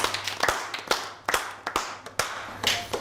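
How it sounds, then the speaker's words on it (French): Students at an elite boarding school clap for a top-scoring classmate, a short burst of separate, sharp handclaps in an uneven rhythm, close and fairly loud. "Monsieur, bravo, on l'applaudit."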